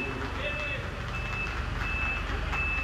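Trucks arrive to carry workers to hospitals, sounding a steady series of high reversing beeps over a low, continuous truck engine rumble.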